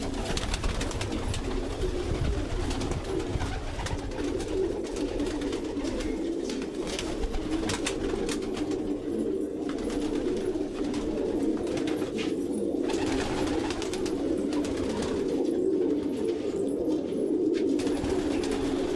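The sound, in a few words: pigeons cooing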